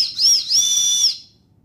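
A single loud, shrill blast from a floating emergency survival whistle, high and piercing with a brief warble, lasting about a second before cutting off.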